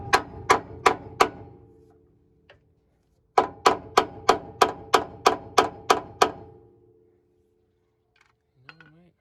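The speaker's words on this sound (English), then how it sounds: "maybe I can shove a screwdriver in there and hammer it through" Sharp metallic hammer strikes on a screwdriver driven through metal on a 1990 Ford Ranger, in two quick runs, four blows then about nine in an even rhythm, ringing against metal, close by.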